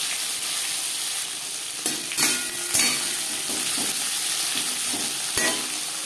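Chopped onion and tomato sizzle steadily in hot refined oil after panch phoron and bay leaf, with a constant close frying hiss broken by a few sharp stirring clatters.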